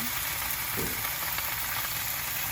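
Bacon strips laid flat in a skillet sizzle and crackle steadily, a dense close hiss that stays even throughout with no talking.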